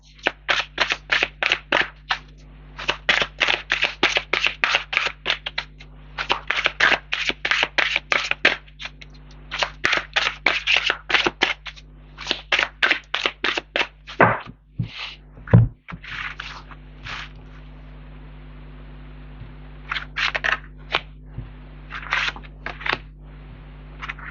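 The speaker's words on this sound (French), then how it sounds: "Je vais recouvrir les cartes." Tarot cards handled and covered on a table, bursts of rapid close riffling and flicking clicks in quick clusters with short pauses, crisp and loud, no speech.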